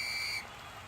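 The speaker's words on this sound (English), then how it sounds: "Ref blows the whistle" A referee's whistle in an ice hockey video game gives one short, shrill blast that cuts off abruptly, leaving low arena murmur behind.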